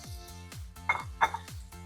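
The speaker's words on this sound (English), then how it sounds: "So the onions have become light brown in color, and I'm adding the tomatoes." Tomatoes drop into a pan of light-brown onions with two bright metallic clinks of a utensil against the pan, over a repeating low rhythmic thump in the background.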